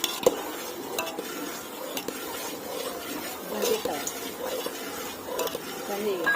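Boondi is stirred into sugar syrup with a utensil, soft repeated scraping and clinking of metal against the pan under a faint background hiss, close and steady.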